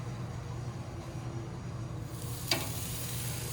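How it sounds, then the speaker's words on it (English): Steady frying sizzle fills the background, with a brief sharp hiss as chicken hits a hot grill surface, close up. "Isn't that sizzle?"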